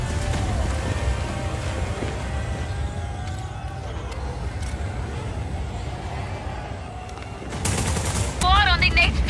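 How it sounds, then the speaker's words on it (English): Wing cannons on an aircraft in the video game Just Cause 4 fire in dense, sustained bursts under a steady low engine rumble, with a sharper louder volley near the end while voices talk over the action. "Engaging cannons."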